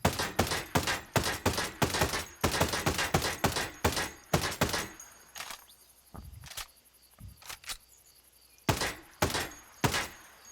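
A suppressed G28 DMR rifle fires in Ghost Recon Breakpoint, a rapid string of sharp, close muffled shots in bursts, then a handful of sparser single shots with short pauses between them.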